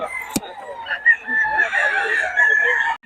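Stag roosters crow and cluck, the crowing carrying as drawn-out calls over a brief sharp knock and low clucks, fairly close.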